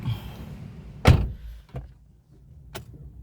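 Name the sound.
Nissan X-Trail car door closing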